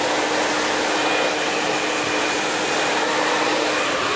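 A hair dryer blows hot air steadily and loudly at close range while hair wrapped around a round grooming brush is heated, a constant whooshing hum with a faint steady tone and no speech.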